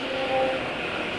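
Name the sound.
old motorcycle engine running with oil mixture and Xado additive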